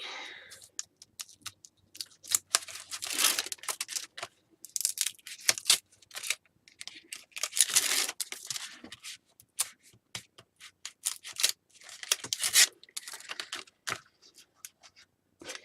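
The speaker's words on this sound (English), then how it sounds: "Release this tape backing." Adhesive tape backing is peeled away in quiet, close crackling bursts, a series of short irregular rips separated by brief pauses.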